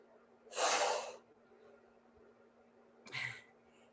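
Two heavy breaths during a weight exercise workout, a long forceful exhale then a shorter one about two seconds later, close and fairly loud against a quiet room.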